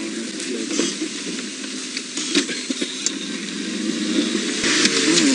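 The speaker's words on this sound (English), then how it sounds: "Oh dear, this car will not go into reverse." A safari game-drive vehicle's engine runs steadily while it fails to shift into reverse, a continuous rumbling drone with faint hissy noise and small bumps throughout, no voices.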